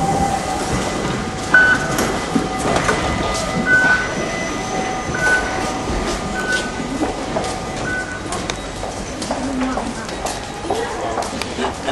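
A metro train rumbling along the tracks with a steady, noisy roar and occasional squeals, heard from inside the carriage.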